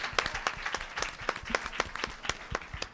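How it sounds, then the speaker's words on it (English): A church congregation applauding during a Sunday celebration service, a steady patter of many hands clapping at moderate distance for a few seconds with no talking. "Applaud yourself."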